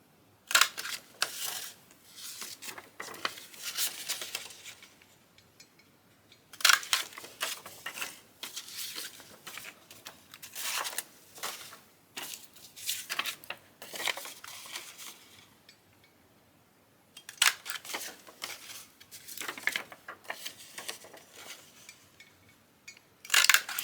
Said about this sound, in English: go through all my envelopes and create my little thumb hole